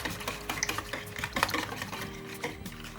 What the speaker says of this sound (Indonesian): lalu kita aduk-aduk. Saya ganti sendok dengan spatula saya